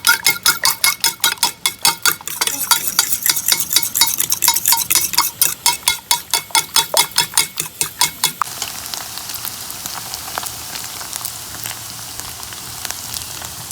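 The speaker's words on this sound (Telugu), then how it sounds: "టూ ఎగ్స్ తీసుకున్నానండి. మనం ఆమ్లెట్కి బీట్ చేసుకుంటాం" Two eggs are beaten for an omelette with a fast, steady rhythm of clicking whisks against the bowl, continuing for about eight seconds before fading into a softer, irregular patter.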